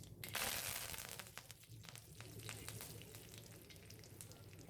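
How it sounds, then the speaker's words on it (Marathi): Mustard seeds, cumin and curry leaves hit hot ghee for a buttermilk kadhi, bursting into a loud close hiss that settles into steady crackling and popping. "आता तूप चांगलं तापलं. त्यात आपण थोडीशी मोहरी, जिरे,"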